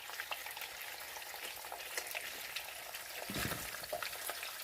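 Turkey bacon frying in a pan, a steady crackling sizzle with brief stirring noises, close and even in level, no voices.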